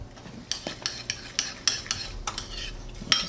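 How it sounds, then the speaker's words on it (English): A spoon stirring sugar-free caramel syrup in a mug, rhythmic close clinks and scrapes against the sides repeating about every third of a second. "Going to give that a good stir so it's made a nice beautiful syrup to go over our mug cake"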